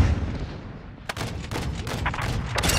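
AC-130 gunship cannon fire in a military video game: several loud, heavy blasts in quick succession over a dense rumbling battle background, fairly close and continuous through the clip.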